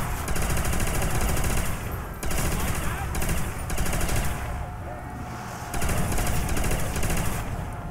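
Powerful gun firing in Call of Duty Zombies on the custom map Lockdown, loud sustained bursts of rapid shots broken by short pauses, with no voices over them.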